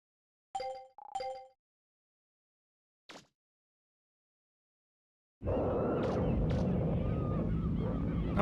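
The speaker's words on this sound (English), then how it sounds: "Oh, birds out of nowhere." Birds honking in the video game Mega Man Legends: two short honks near the start and a brief blip later, each separate and clear over silence, before a loud, dense burst of game noise takes over.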